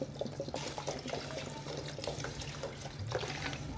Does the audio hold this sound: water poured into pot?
yes